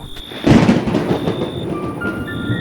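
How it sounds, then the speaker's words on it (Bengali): A loud, sharp thunderclap sound effect for a horror story set on a rainy night, bursting in suddenly and then rolling on in a rumbling tail, with no speech over it. "হঠাৎ কর কর করে জোরে একটা বাজ পড়ল"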